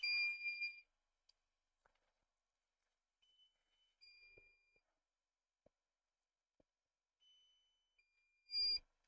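A drone's electronic warning beeps sound during a live broadcast over an Icelandic volcano: short, high, tonal bleeps in intermittent pairs and bursts, separated by near silence, fairly loud and with no one talking.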